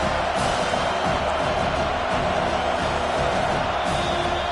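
A stadium crowd at a football game roars in a dense, continuous wash of cheering, loud and unbroken with no distinct voices standing out.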